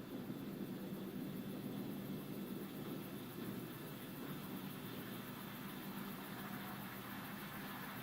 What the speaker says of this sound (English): the center engine, engine number 9, has relit